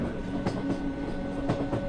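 Steady rumble of a moving train with rhythmic clacks of wheels over rail joints, a few sharp knocks spaced about a second apart.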